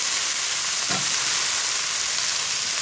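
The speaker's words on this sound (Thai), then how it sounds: "ผัดแบบสดๆเลยนะ" Fresh raw mixed vegetables for a stir-fry with ground pork sizzle loudly and steadily in a hot pan, with a brief stirring scrape partway through and no talking.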